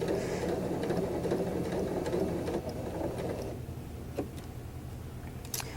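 A sewing machine runs steadily, stitching an inside curve seam right off the fabric edge, its dense motor whir and needle ticking continuous and close before easing slightly near the end with a few light clicks.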